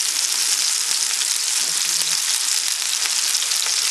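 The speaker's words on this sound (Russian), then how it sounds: "Оставляем котлеты, чтобы они поджарились именно с одной стороны." Meat cutlets fry face-down in an uncovered pan, giving a steady, loud, even hiss of sizzling oil throughout.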